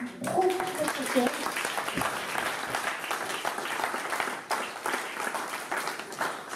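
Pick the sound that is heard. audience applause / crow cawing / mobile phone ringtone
audience applause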